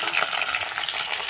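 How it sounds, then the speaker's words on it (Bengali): Raw jackfruit pieces for pickle sizzle in hot oil, a loud, close, unbroken crackling hiss with faint stirring and no voices. "এবার এর মধ্যে আমি ভেজে নেবো।"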